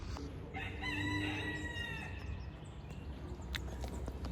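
A rooster crows outside by a chicken coop in the morning, one drawn-out cock-a-doodle-doo at moderate distance over faint background noise, with no voices.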